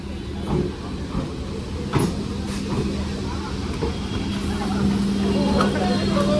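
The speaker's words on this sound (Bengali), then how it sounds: "দেখতে পাচ্ছ শিয়ালদা কৃষ্ণনগর লোকাল এই রানাঘাট স্টেশনে ঢুকছে" The Sealdah–Krishnanagar local train rolls into Ranaghat station with a steady low rumble and a sustained hum, broken by faint clicks and clunks, rising slightly toward the end amid platform ambience.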